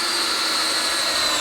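A power drill runs steadily and close up, driving screws into a trap panel for wild boar, a constant high whine with no breaks or pauses.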